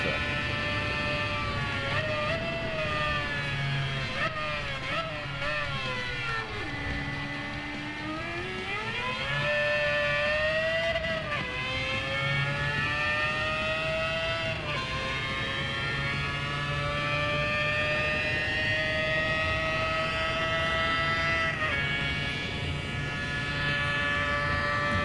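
A car engine in Gran Turismo 7 screams at high revs, held near the limit with brief dips and climbs during shifts, loud and continuous for about twenty-five seconds with no voices.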